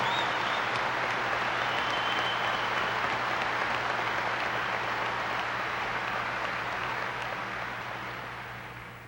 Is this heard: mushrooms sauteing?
no